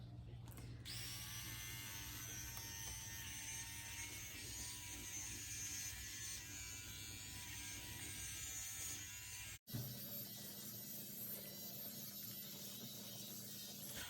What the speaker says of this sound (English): So I've got my little, you know, little lady shave thing.